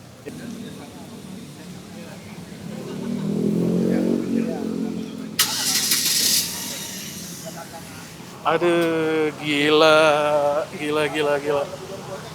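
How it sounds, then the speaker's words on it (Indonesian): A Hyundai H1 van engine with 2 million km idles and revs nearby, with a sudden hiss partway through, and then people talk loudly over the running motor. "Lu denger nih suara mesin di sini?"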